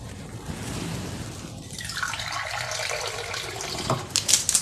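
Water poured into a small cup for sugar syrup, a steady close splash under a rising pitch as the cup fills, a few sharper drops and clinks near the end, no one talking.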